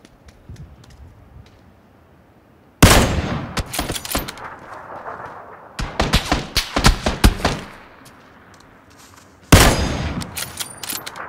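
Gunshots ring out in three loud clusters of rapid, sharp cracks, each burst fading into a quiet background before the next one starts.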